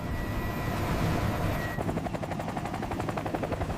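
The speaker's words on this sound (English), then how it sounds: "A rescue helicopter launches toward the disaster zone, hoping survivors are still holding on." A rescue helicopter flies toward an Atlantic disaster zone: a steady, dense roar that shifts after a couple of seconds into rapid, rhythmic rotor chopping, loud and close, with no voices.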